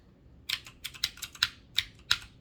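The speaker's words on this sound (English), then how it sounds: "I got the really awesome mechanical keyboard. It's got the really awesome loud clickety-clackety switches." Fingers type on a Redragon mechanical keyboard with loud, clicky switches. About nine crisp, close keystrokes come in an uneven rhythm, each one clearly separate.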